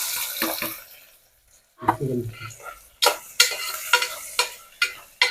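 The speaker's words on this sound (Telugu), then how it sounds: "ఆయిల్ వేడైందండి ఇప్పుడు ఆనియన్స్ వేసేస్తున్నాము" Onions dropped into hot oil for a mutton curry with fenugreek leaves. A short gap and a brief clatter come first, then bright crackling sizzle with a run of sharp spatters and stirring scrapes, close and fairly loud.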